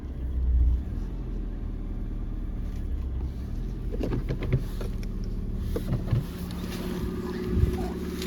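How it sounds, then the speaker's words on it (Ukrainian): A Ford Fusion engine idles with a low, even rumble, heard close up and fairly quiet, with a few brief clicks and knocks from around the car partway through. "Двигунчик у нас працює. Чуєте, тихенько, рівненько, жодних зайвих звуків."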